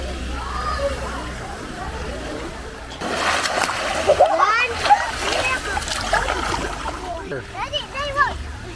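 Child swimming in a lagoon, splashing close by in bursts of churned water after a quieter start, with children's and adult voices calling out over the splashes.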